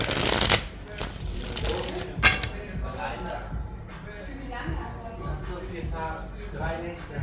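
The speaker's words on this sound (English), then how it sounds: "Alright, one more shuffle." A deck of cards is riffled with crisp, rapid fluttering bursts, while a voice talks quietly underneath.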